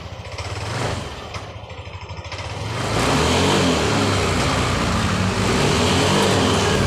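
Yamaha NMax scooter engine with a fault that makes it lose power at high rpm, revving loudly and holding a rough, strained high-rpm drone after a quieter idle start; no one speaks.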